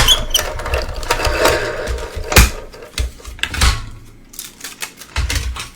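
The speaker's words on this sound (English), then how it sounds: "And I am just die cutting this." A paper die-cutting machine presses a Halloween die through paper, giving a run of irregular mechanical clatters and thumps with a few sharper knocks, close and fairly loud, with no talking.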